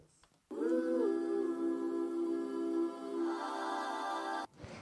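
A dry, unprocessed music sample sounds alone as a sustained, bright harmonic tone, held steadily for about four seconds before stopping abruptly.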